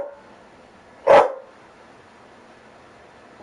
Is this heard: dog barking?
yes